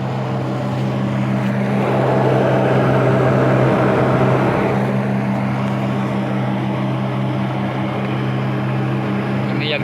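A grain winnowing machine runs with a loud, steady mechanical drone and hum, its fan noise swelling briefly in the middle before settling, continuous throughout with no pauses.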